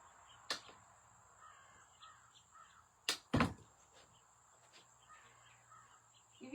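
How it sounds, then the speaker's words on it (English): Crows cawing outside a room where a wreath is being made: a few harsh, distant caws at scattered moments over a quiet background, with no talking. "You hear them crows out there arguing?"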